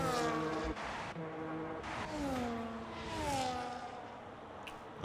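F1 race cars in the F1 25 video game scream along the Canada circuit, several engine notes rising and falling as cars pass and shift, loud and continuous with no voices.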